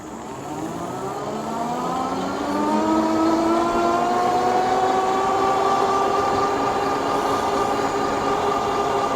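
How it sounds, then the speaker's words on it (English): A Glion B1 foldable electric bike climbs a street incline at full throttle, its motor producing a loud, steady whine that rises in pitch as it speeds up, with no voices. "this time I'll just do the throttle all the way up the street here"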